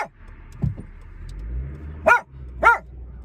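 A dog inside a moving car gives a few sharp barks and yips over the low rumble of the engine, close and loud, with pauses between barks.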